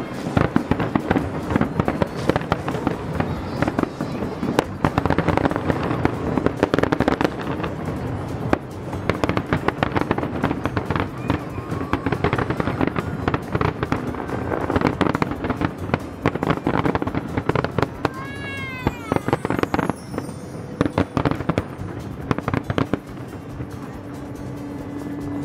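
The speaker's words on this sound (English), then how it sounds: "Saw the fireworks" Fourth of July fireworks explode in a long, dense series of booms and crackles, loud and continuous with some wind noise over the microphone.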